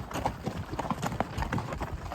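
Horses' hooves clip-clop steadily on a backcountry trail ride into an elk hunting camp, several animals walking in uneven overlapping beats, close and fairly loud.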